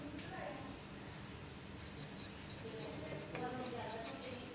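Pen scratching across paper while a physics solution on kinematics is written out by hand, a steady soft scraping with brief strokes, heard under a voice speaking throughout.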